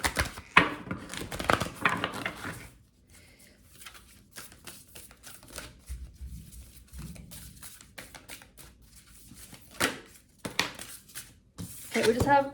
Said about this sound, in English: Let's get this deck a shuffle.